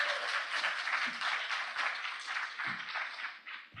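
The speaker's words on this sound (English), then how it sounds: "let's give him a warm, large round of applause." Audience applause at an event introduction, a dense, steady wash of many hands clapping at moderate loudness that carries on throughout without any voices.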